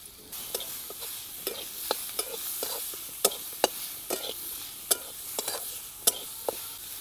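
Chopped tomato going into a pan of fried onion and spices, with a steady close sizzle broken by sharp, irregular clinks and scrapes of a spoon stirring against the pan.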